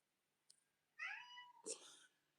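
A cat cries out indoors: a soft click, then two distinct meows, the second sharper and higher, quiet and close with no talk.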